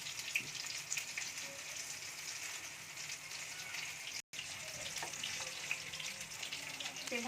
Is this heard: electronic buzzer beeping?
no